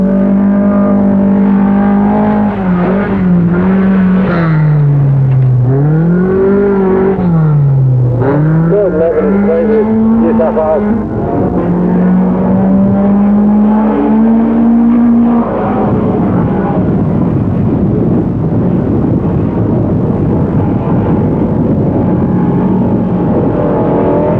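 Rally cars race on the Amaroo Park Raceway dirt circuit in 1985, with a loud, close engine rising and falling in pitch through gear changes, then a harsher, rougher roar as it revs hard.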